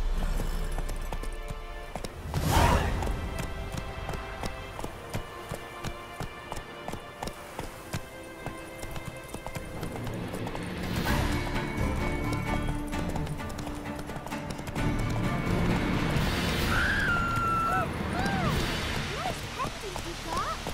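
In a video game, the horse Roach gallops with a steady, rhythmic clip-clop of hooves that starts with a heavy thud. Later, busier game sounds and a brief tonal cue mix in.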